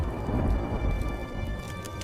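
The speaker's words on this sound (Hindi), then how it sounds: "आसमान में काले बादल छा जाते हैं और जोर जोर से बिजली कड़कने लगती है" Rain falling steadily with a low thunder rumble under dark skies, a dense continuous wash of drops close by with no voices.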